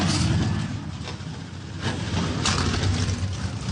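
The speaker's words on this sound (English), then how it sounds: "35 NASCAR Craftsman Truck Series machines come to life on the pit lane." Thirty-five NASCAR Craftsman Truck Series race truck engines starting together on pit lane, a dense rumbling drone with bursts of revving, loud and continuous.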